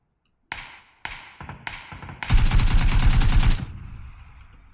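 Several single gunshots ring out spaced apart, then a rapid burst of automatic fire rattles for over a second before fading into a reverberant tail, in the video game PUBG on PC.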